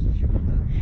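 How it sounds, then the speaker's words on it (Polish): Wind gusts into the microphone outdoors before a first drone flight near a historic bridge in Stobnica, a steady, buffeting low rumble at close range. "że jednak za mocno wieje"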